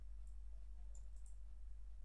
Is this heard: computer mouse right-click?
yes